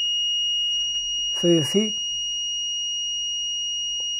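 An Arduino buzzer alarm, switched on with an XY joystick, holds a steady high electronic tone throughout while someone talks briefly over it.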